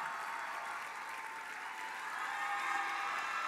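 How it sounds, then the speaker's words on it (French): Sustained applause from a gala audience fills the whole stretch, a steady dense wash of clapping with no breaks. "Donc, j'aimerais les applaudir."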